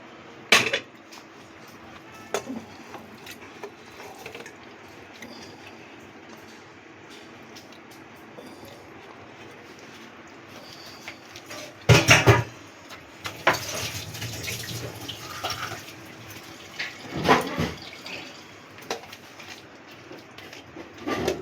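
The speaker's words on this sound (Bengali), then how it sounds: "দিয়ে দিচ্ছি জল" Water is poured into a pressure cooker holding mutton mince with ginger-garlic paste and spices, heard as brief close splashing bursts against a quiet kitchen background, with a few clattering knocks.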